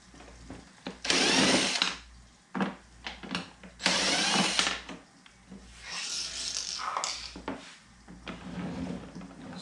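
A power driver removes screws from the plastic housing of an Arctic King portable air conditioner, in several loud whirring bursts separated by short pauses and handling clatter.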